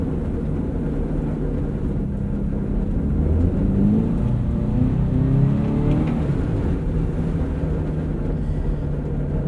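Subaru BRZ on winter tires cruising a snowy highway: a continuous roar of road and tire noise with a low engine drone that swells in the middle, unbroken by talk.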